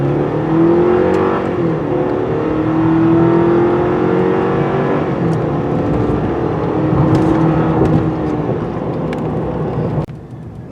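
A 2022 Chevy Silverado with the 2.7L turbo four-cylinder accelerates hard from 0 to 60, its engine droning loudly with rising, shifting tones throughout, easing off near the end, no talking over it.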